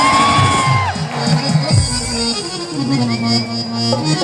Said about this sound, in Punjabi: ਇਹ ਗਾਣਾ ਤਾੜੀਆਂ ਮਾਰ ਕੇ ਇੱਕ ਵਾਰ ਮਤਲਬ ਰੌਲਾ ਪਾ ਕੇ ਦੱਸ ਦਿਓ